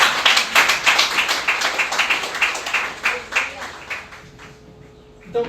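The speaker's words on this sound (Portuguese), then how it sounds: "A salva de palmas ao Senhor." A church congregation claps together in praise during a Nova Vida service, loud, rhythmic group clapping in unison that gradually thins and fades out, leaving a faint hum near the end.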